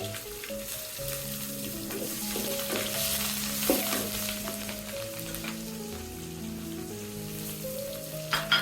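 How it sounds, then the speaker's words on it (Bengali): Chopped ginger and green chilies sizzle loudly in hot oil in a pan that already holds whole spices and bay leaf. The frying runs steadily up close with stirring scrapes, and no one speaks. "মানে আদা কুচি দিয়ে দিচ্ছি, কাঁচা লঙ্কা দিয়ে দিচ্ছি।"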